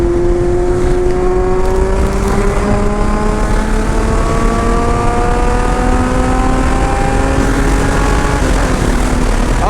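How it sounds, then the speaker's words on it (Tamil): A Kawasaki Z800 naked motorcycle revs its exhaust loudly and up close, with a rising and falling engine note that climbs steadily through the revs, unbroken and with no talk. "சவுண்டு எக்ஸாஸ்ட் சவுண்ட் வேறு கொஞ்சம் பயங்கரமாக இருக்குது"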